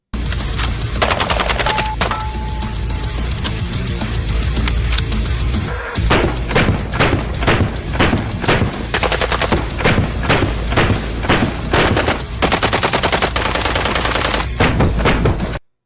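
A Gen 12 semi-auto, mag-fed 12-gauge shotgun fired in rapid repeated blasts, loud and close. The shots come in quick bursts for the whole stretch, with only short gaps between them.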